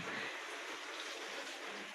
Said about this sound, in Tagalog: maghuhugas po muna ako ng aking hugasin